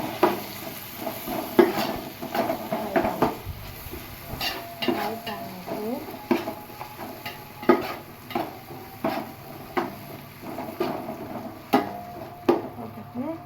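Mint leaves sautéing in a pan for Chettinad chicken biryani, a low sizzle broken by regular scraping and clinking strokes of a spoon against the pan, repeating roughly every second at close range.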